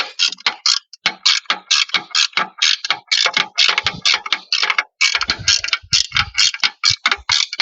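A ratchet tightens the clamp of a fishing pole holder mount onto an e-bike, a loud close run of rapid clicking strokes in uneven bursts with brief pauses.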